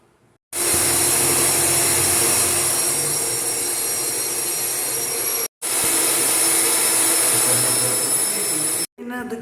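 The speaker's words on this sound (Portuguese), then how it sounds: "nós vamos bater esse glacê por 10 minutos na velocidade máxima" A stand mixer beats royal icing at maximum speed, giving a loud, steady motor whir that runs almost unbroken, with one brief pause midway and a short stop near the end.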